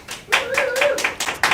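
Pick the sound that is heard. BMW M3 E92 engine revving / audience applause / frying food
audience applause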